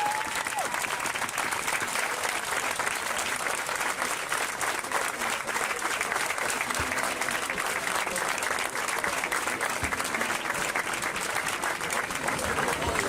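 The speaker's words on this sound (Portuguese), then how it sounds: "Um grande aplauso para Miguel Nora." Sustained crowd applause at a sardine lunch event presenting municipal candidates in Matosinhos, a steady dense clapping wash from many hands lasting throughout without a break.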